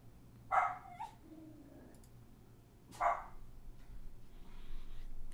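Pet dogs let out two short, sharp barks a few seconds apart, close by but fairly quiet, with low room hum and faint clicks between them.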